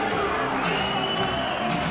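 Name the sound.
boxing crowd cheering and booing a boxer's entrance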